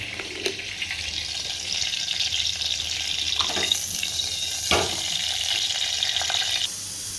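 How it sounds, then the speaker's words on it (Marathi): Tempering for a chutney sizzles in hot oil in a home kitchen, a steady bright hiss with a few sharp crackles, close and continuous, with no one talking. "चटणीला फोडणी देते 2 मिनिटात."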